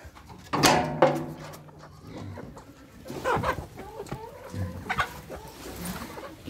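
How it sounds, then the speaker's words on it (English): Wild hens clucking close by in a barn pen, with overlapping bursts of loud clucks and cackles and a few quieter calls in between. "This group in here is all the wild hens."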